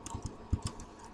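Code being typed on a computer keyboard during Java programming, with scattered quick key clicks and a few louder taps, close and fairly quiet over a soft background hiss.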